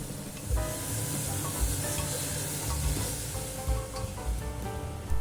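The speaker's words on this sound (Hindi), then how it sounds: "अब हम बटर में थोड़ी देर टमाटर को कुक कर लेंगे।" Chopped tomatoes cook in butter in a pan for a restaurant-style tomato soup, with a steady sizzle and hiss plus occasional stirring clatter from a spoon against the pan.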